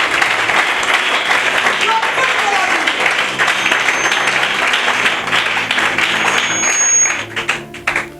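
A church congregation applauds and cheers loudly and steadily for several seconds, a dense wash of clapping with voices mixed in, tapering off near the end.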